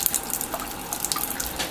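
Tap water runs steadily into a container to make an ammonia and water mixture for cleaning a saw blade, a continuous close splashing hiss with no voices.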